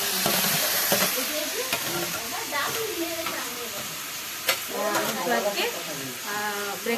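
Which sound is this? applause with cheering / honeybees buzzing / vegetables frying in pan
vegetables frying in pan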